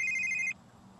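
A brief electronic phone ring in The Sims 3, a steady high tone heard for about half a second before cutting off to near silence.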